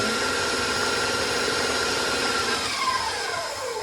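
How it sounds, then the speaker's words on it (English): A KitchenAid stand mixer works molasses batter in a bowl, giving a steady, close motor whir and hum that stays fairly level for a few seconds, with no talking. "even though KitchenAid mixers are nice, you always gotta scrape the sides of the bowl"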